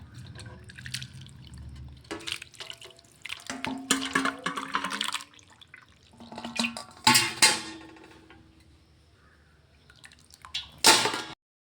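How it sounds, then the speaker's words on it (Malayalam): Hibiscus flower decoction is poured through a strainer into another vessel. Irregular splashes and trickles come in several bursts separated by quiet gaps, with drips in between. "ഞാനിതിനെ മറ്റൊരു പാത്രത്തിലോട്ട് അരിപ്പ് കൊണ്ട് അരിച്ച് ഒഴിക്കുകയാണ്"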